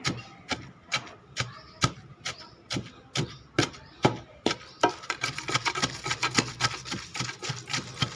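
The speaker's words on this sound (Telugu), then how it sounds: "వేపుకొని ఇట్లా రోట్లో దంపుతున్నాను" Steady, rhythmic thuds of a stone pestle pounding fried green chillies in a stone mortar, about two strikes per second, growing busier and more crunchy toward the end.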